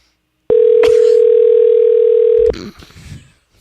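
Telephone dial tone, a loud steady single-pitch hum lasting about two seconds with a click at its start, then it cuts off into faint handling noise and brief muffled sounds.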